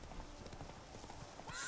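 Steady clip-clop of a horse's hooves in the video game The Witcher 3, a regular trotting rhythm at moderate level with a brief whinny-like tone near the end.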